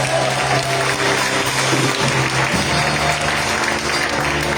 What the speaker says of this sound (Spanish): Alguien tiene que aplaudir a Dios por eso.